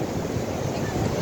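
Sea waves wash and churn nearby in a steady, rough roar, blended with wind buffeting the microphone and no distinct individual breakers.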